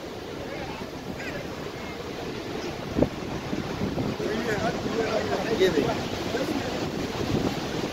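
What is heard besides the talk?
Niagara Falls waterfall rushing water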